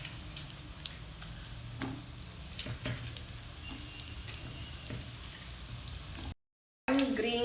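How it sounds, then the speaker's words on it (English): Chopped onions and radish fry in hot oil in a pan, making a low, steady sizzle with occasional light clinks, broken by a brief silent gap near the end. "While we are waiting for the onions to be fried"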